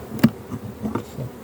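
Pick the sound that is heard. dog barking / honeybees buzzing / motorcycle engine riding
honeybees buzzing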